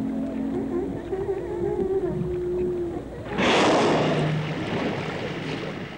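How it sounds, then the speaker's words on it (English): Recorded humpback whale songs played back underwater from a lowered speaker in Lahaina Sound, long moaning tonal calls that rise and fall, then give way to a broad rushing wash of water noise. "An underwater speaker was lowered to play back the whale songs they had already recorded."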